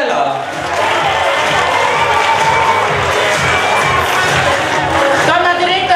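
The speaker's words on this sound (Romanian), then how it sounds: "aplauze vă rog pentru doamna directoare Dascălu Mariana Gabriela" An audience at a school's Miss Boboc 2019 event cheers and applauds for the college's woman director, a dense, steady wall of crowd noise with shouts and whoops that holds loud for the whole stretch.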